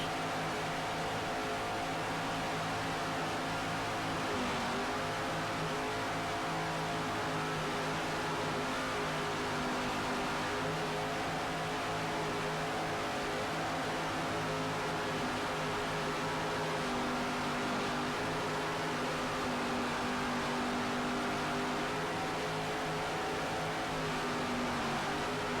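Shockwave, a 38-foot Fountain offshore racing powerboat with twin 700-horsepower blown inboards on MerCruiser drives, roars at the Key West offshore world championships, a steady dense engine drone that swells and eases with the throttle, no voices.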